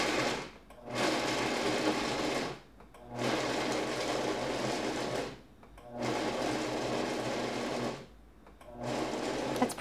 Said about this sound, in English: you wanna get them pretty finely chopped, but not like a dust